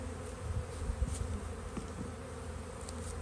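Honeybees buzzing around a frame lifted from a nuc beehive, a continuous close droning hum that holds steady throughout with no voices.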